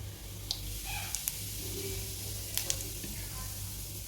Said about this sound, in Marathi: छानपैकी तेल तापलेलं आहे मोहरी घालूया त्यानंतर जिरे